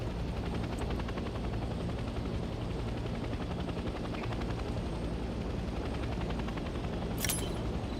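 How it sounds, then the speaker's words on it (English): A helicopter flies steadily in the Vietnam-era video game Hell Let Loose, a continuous rotor and engine drone holding for the whole stretch with a brief sharp burst near the end. "Let's land the helicopter."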